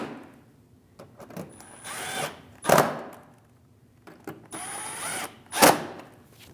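A power tool drives bolts into the fender liner of a 2016-2025 Chevrolet Malibu 1.5L L4 in two separate whirring bursts, each rising to a sharp ratcheting peak as the bolt snugs down, with quiet clicks and handling between them.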